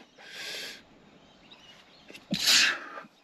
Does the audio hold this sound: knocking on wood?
no